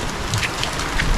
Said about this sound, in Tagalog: Umugod na kami sa ulan.